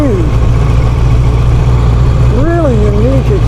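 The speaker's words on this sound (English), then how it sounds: "The four-cylinder that rumbles more like it's a V. I don't know, it's got a unique, friendly rumble." An Ariel Square Four four-cylinder motorcycle engine rumbles steadily and loudly up close while riding, a constant deep drone with a voice speaking briefly over it.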